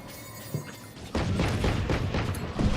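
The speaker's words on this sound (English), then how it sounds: "Placing swarm grenade." Swarm grenade in Valorant bursting as a run of dull booms and thumps, starting with one muffled hit and then a denser cluster of rapid blasts over game background noise.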